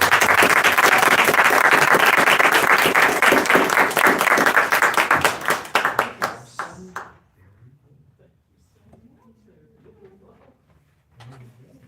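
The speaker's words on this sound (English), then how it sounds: "would you join me in giving her a warm round of applause for the work that she's doing?" An audience gives a warm round of applause, loud, dense clapping that thins into scattered claps and dies out after about seven seconds, followed by a quiet room and a voice speaking.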